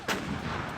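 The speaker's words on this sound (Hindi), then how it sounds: "M777 अल्ट्रा लाइट होवित्जर तोप है।" An M777 ultra-light howitzer artillery gun firing a single round, a sharp, loud boom with a sudden onset followed by a short rumbling tail.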